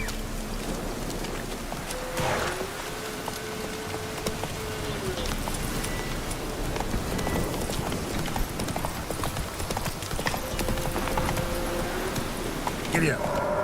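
Horse hooves beat a steady, close clip-clop rhythm as the horse gallops in The Witcher 3, with brief voices and other game sounds over the hoofbeats.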